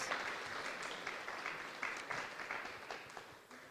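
A crowd claps in applause, fairly distant and soft, with the clapping gradually thinning out toward the end.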